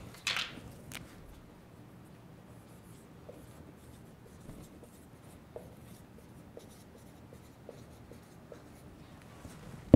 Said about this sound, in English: let's write that in another color for emphasis.